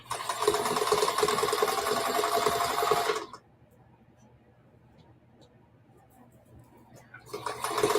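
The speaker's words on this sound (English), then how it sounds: "And so we're just sewing down the sides." A sewing machine stitches down the side seams of a large hobo weekender bag, running in a loud steady burst, stopping for a few seconds of quiet, then starting up again.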